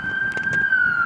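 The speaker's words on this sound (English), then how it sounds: "I'm not following this ambulance, by the way." Ambulance siren passing along a street at night, a steady high wailing tone sliding slightly downward, fairly loud and close, with faint street noise and brief thumps beneath it.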